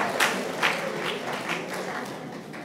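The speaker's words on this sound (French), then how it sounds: "Ta question suscite même des acclamations" Applause and scattered cheering from a congregation during a sermon session, a steady wash of clapping at moderate volume with a few louder bursts near the start, slowly fading toward the end.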